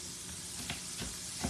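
Chicken tenders fry in a pan with a constant close sizzle and hiss of hot oil, with a few soft pops and clinks, alone without talk.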